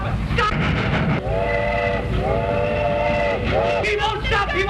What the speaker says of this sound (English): Stop that train!